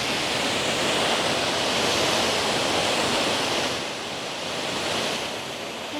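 Water rushes continuously at canal locks in a historic Ontario village in fall, a loud, broad, steady roar that eases slightly partway through, with no speech.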